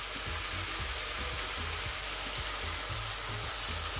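Chicken gizzards and other ingredients sauté in a pan for a Cameroonian sautéed gizzard dish, making a loud, steady, unbroken sizzle with faint low knocks beneath and no voices.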